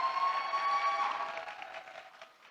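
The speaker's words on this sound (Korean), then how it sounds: "우리 장은정 집사님에서 크게 한 번 더 박수 한번 해주시면 좋겠습니다" A church congregation at a Sunday worship service claps for a deacon, producing a soft, steady wash of applause that fades gradually. A faint sustained tone sits underneath, and no one speaks.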